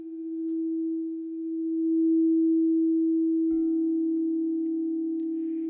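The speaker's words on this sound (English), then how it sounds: "If you cannot imagine these bowls are in front of you, you can hear the sound." A pure, sustained ringing tone from singing bowls holds steady for several seconds, softly swelling and fading, with a faint higher overtone joining partway through.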